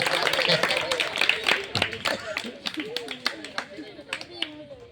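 Scattered audience clapping at a farewell ceremony where a woman is honoured with a shawl, with uneven bursts of claps mixed with people talking over them.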